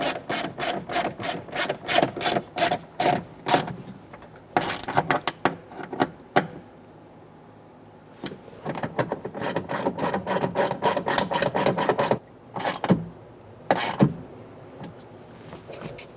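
Door lock actuator bolts being snugged down inside the rear door of a 2014-2018 Chevrolet Silverado 1500, heard as rapid, close ratchet clicks in repeated bursts with short pauses between them, no talking.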